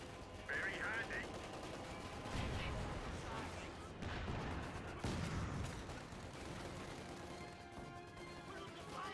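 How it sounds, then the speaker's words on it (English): Video game gunfire in Project Zomboid, with rapid bursts of shots and crashing impacts rolling on through the clip amid other game noise, moderately quiet. "We're under fire here!"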